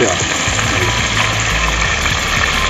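Medium onions go into a karahi of hot oil and browned ginger, setting off a loud, dense, continuous frying hiss right up close.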